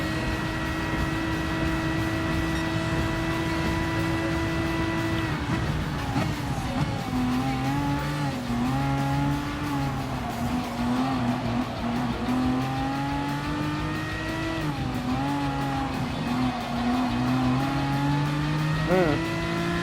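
Aston Martin V12 Vantage GT3 race car in Gran Turismo, its engine droning steadily and loud throughout, with pitch rising and falling through gear changes and a sharp rev near the end.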